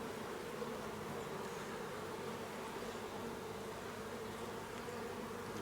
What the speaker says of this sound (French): il y a beaucoup d'abeilles